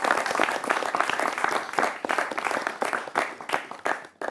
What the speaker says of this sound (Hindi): आपके लिए भी तालियां होनी चाहिए